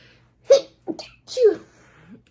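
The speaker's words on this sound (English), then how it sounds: "I'm going to sneeze. I can feel it coming here." A sharp, close sneeze, preceded by a quick intake of breath, followed by a couple of smaller sniffling sounds.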